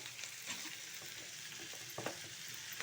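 Green chili, garlic, onion and eggplant sauté in a pan with a soft, steady sizzle, a few scraping stirs of a spoon cutting through the quiet frying hiss.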